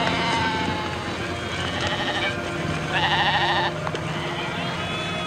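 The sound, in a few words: sheep bleating on the way to the slaughterhouse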